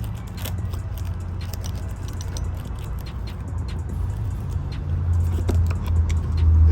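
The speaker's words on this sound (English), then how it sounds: "you put a screwdriver into the ribbon, get it in there, and just wiggle it back and forth till you can get it out" A screwdriver works back and forth to pry a ribbon and gasket out of a Sea-Doo Spark watercraft, making steady small metallic clicks and scrapes over a low, constant rumble with no talking.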